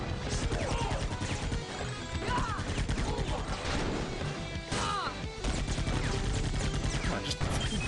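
Buster Gun from the game Iji firing in a dense, busy barrage of crashing blasts and impacts layered over game music, loud and continuous throughout with no talking.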